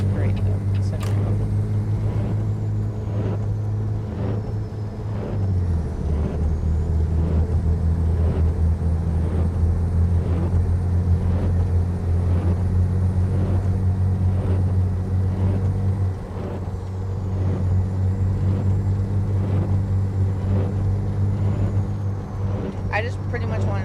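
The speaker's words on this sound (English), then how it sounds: "Engine doesn't sound that great though" Heavy truck engine in American Truck Simulator drones as a steady low rumble throughout, shifting pitch slightly partway through, with a person talking over it.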